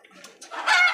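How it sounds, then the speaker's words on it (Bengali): Domestic chickens being caught for vaccination give sharp, close clucks and a rising squawk within a second, loud and alone. "এখন মুরগি ধরাটা অনেক কষ্ট।"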